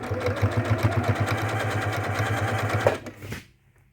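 A sewing machine runs after lint is cleared out of it, a close, steady mechanical chatter with a rhythmic low thump that slows and stops near the end, followed by silence.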